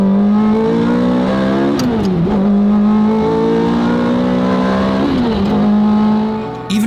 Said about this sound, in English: you'll know that that's the sound of a Ferrari.